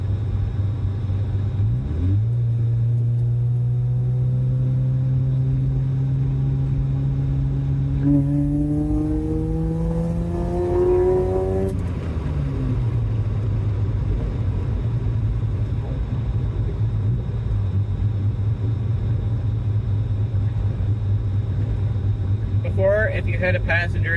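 A Mazda RX7 with a self-built naturally aspirated Bridgeport-ported 13B rotary engine and an added muffler, driving with a steady droning exhaust that climbs in pitch through a rev rise, then settles back to a constant rumble.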